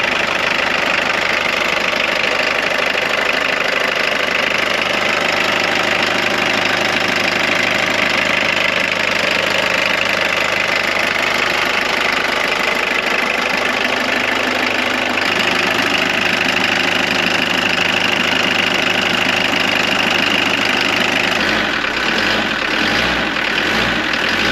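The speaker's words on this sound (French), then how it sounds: "On va laisser tourner 1 minute au ralenti." A Jeep diesel engine idling during repair work, a loud, close, steady low rumble with a knocking texture that holds unchanged for the whole stretch, no voices.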